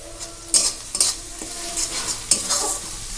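Fish frying in a pan, with a steady hiss broken by several sharp stirring scrapes and clatters.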